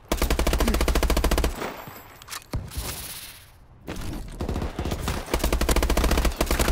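Rapid automatic gunfire in a multiplayer shooter video game, loud bursts at the start and end framing quieter scuffs, thumps and a whoosh in between.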